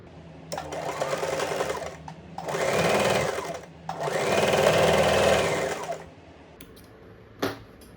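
A sewing machine stitches along the sleeve armhole of a deep-neck blouse in three loud, close runs of rapid needle chatter with short pauses between them, ending with a few light mechanical clicks.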